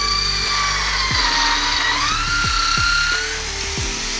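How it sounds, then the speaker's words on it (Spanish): A power drill drills holes through the catalytic converter of a Benelli TNT 899 motorcycle, whining steadily at high pitch, with repeated sharp grinding catches as the bit bites, loud and close with no talking. "le vamos dando con el taladro y mecha"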